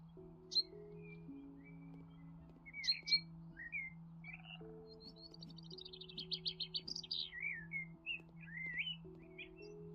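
Bird calls and chirps from the video game House Flipper, bright tweets and warbling trills repeating over a steady low musical drone, with one bird sounding louder than the rest.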